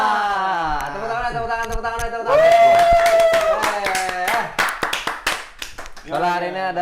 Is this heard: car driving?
no